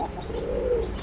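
A Koka pigeon cooing close by, a single soft low throaty coo over light background noise.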